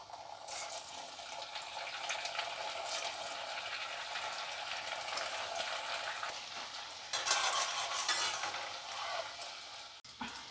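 Crispy winter evening snacks frying in hot oil over a low flame, a steady close crackling sizzle that swells briefly near the end, with no voices.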